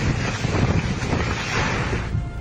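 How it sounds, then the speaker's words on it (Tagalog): Strong typhoon wind from Typhoon Nika in Isabela, Philippines, buffets the microphone in a constant roaring rush, with heavy low gusts pounding throughout and no voices. "Malakas din ang bugso ng hangin sa bayan ng Dinapigil."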